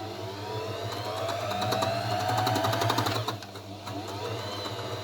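A felting machine runs steadily while working a small piece of wool fibre, giving a close, continuous mechanical whir with rapid needle pulsing that dips briefly partway through before resuming.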